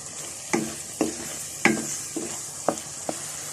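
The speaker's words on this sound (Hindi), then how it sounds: "मसाला अच्छी तरह से भून लेते हैं।" Whole garam masala and coriander fry in a pan for besan masala bhindi, a soft steady sizzle broken by a few sharp scrapes and knocks of stirring, close and with no talk.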